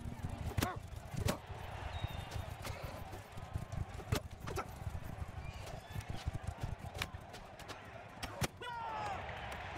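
Horses galloping with clip-clop hoofbeats in a tournament horse fight in the video game Mount and Blade II: Bannerlord, steady repeated hits with sharp impacts and a busy game background throughout.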